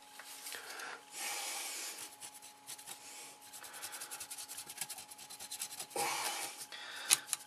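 Brush rubbing light grey paint over black on a Revell Lancaster plastic model kit, a soft continuous scratchy scrubbing that swells in stronger strokes, close and quiet with no talking.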